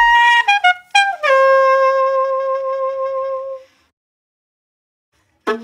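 Chopped pieces of a saxophone loop, transposed to a new key, come in a few quick stabs and then a longer held tone that fades out, clear and alone.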